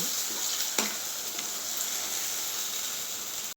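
Gongura leaves stewing in hot oil give a steady, close sizzle with an even broadband hiss, briefly broken by a sharper crackle near the start, and no voices.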